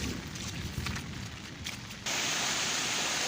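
Rainwater rushing fast along a rough, muddy, stony track after heavy rain, a steady broadband wash that jumps suddenly louder partway through, with no voices.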